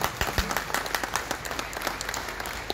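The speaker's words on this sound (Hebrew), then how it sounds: "מגיע כפיים לרב" A room full of people at a religious conference applauds, dense overlapping claps sustained throughout at moderate loudness, with a few sharper close claps standing out.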